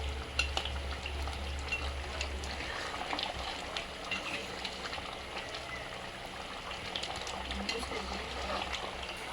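Duck meat frying in a pan with cumin spice powder is stirred, a soft continuous sizzle with scraping and bubbling, fairly quiet, with a low hum underneath.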